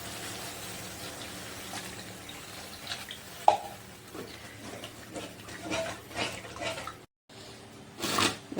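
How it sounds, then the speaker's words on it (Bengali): Water poured into a pan of oil-fried cooked spices for an aloo kofta curry, a faint splashing gush with a light sizzle and scattered clinks of utensils in a quiet kitchen. "এখন আমি জল দিয়ে দিচ্ছি।"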